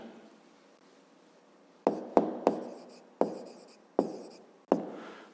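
Pen or pencil writing numbers on paper while solving a fifth-grade math exercise, heard as a quiet stretch followed by six sharp, close taps and strokes spaced about half a second apart.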